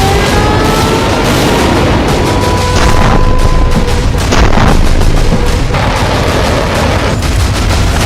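Missile strikes on Iranian nuclear sites produce loud, dense rumbling booms and blasts that roll on continuously with no voices over them.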